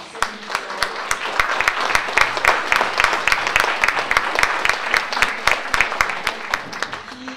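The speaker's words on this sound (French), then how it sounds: "je vais vous demander d'applaudir chaleureusement" A conference audience claps after a talk on the war in Syria and Iraq, many hands with sharp, distinct claps falling in a steady, quick, near-rhythmic beat that holds loud for several seconds.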